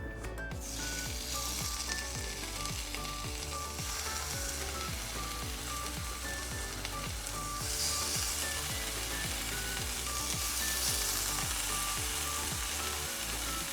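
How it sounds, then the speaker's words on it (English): Deer backstrap steak sizzles steadily in a frying pan, a loud, constant crackle that runs the whole time with no voices. "throw it in the frying pan for about 30 seconds each side and pull it off nice and quick"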